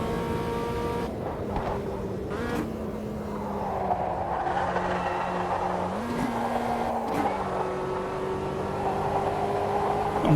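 A front-wheel-drive race car in the Automobilista 2 racing game holds a steady engine drone through a time trial, the pitch dipping and climbing with gear changes and faint tire noise, with no talking.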